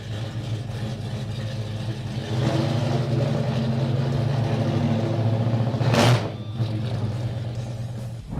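A Pontiac GTO Judge muscle car engine growls at a steady, fairly loud level with a brief surge of revving near the end, heard alone without talk.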